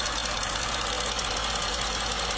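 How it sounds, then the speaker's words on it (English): A Mitsubishi 3-liter engine in a 2017 Outlander runs at a steady idle, a loud continuous hum with faint rhythmic ticking and a hissy top, heard close up without talk. "So this is 3-liter motor,"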